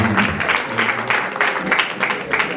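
Applause ripples through a wedding reception crowd in bursts of clapping, close and fairly loud, with a few voices mixed in.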